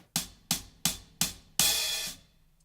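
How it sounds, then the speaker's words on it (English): Four short, crisp hi-hat strikes played staccato with the stick tip, evenly spaced and close, followed by a slightly longer, washier hit that rings briefly before cutting off. "a really kind of short and really staccato sound is gonna come from the tip"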